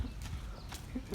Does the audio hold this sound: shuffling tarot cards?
no